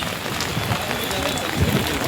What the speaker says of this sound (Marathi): पूर्ण पावसाचं वातावरण